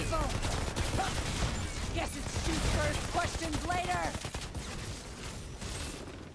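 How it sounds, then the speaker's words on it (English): Gunfire from the shooter video game Outriders, bursts of rapid shots and crackling impacts at moderate level, with a voice talking over them. "We're shooting first, all right."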